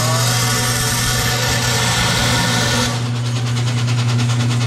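A power tool whines steadily while cutting a bracket from scrap sheet metal, loud and continuous, with its pitch and tone shifting partway through as the cut changes.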